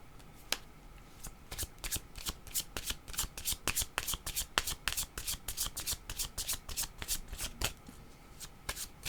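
A deck of cards being shuffled repeatedly at close range, producing quick riffling bursts and crisp snaps in an irregular rhythm, fairly quiet and alone.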